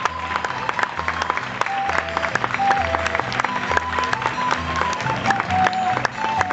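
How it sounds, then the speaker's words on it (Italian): Applause from a theatre audience welcoming a guest onto the stage, steady dense clapping sustained throughout with faint crowd murmur beneath. "accogliamolo con un bel applauso Andrea Balestri"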